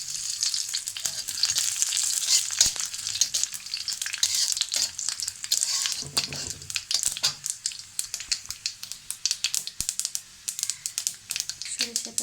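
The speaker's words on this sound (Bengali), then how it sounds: "সরিষাটা ফুটে উঠেছে" Whole mustard seeds splutter in hot oil in a heated karahi alongside dried chilli and garlic, a dense steady sizzle broken by sharp close crackles and pops that grow sparser and more distinct toward the end.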